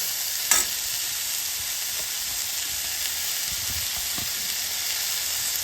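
Onion and finely chopped capsicum sauté in a hot pan for a paneer frankie, a steady close sizzle and hiss with a sharp clink near the start and soft scraping stirs scattered throughout.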